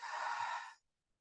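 A single breathy exhale during a heel lift exercise, close and soft, lasting under a second before fading to silence.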